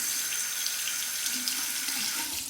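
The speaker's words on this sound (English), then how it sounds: "Cold water rinse on the razor." Cold tap water runs steadily over a Parker 97R safety razor during a shave, a close, even splashing hiss that lasts throughout without speech.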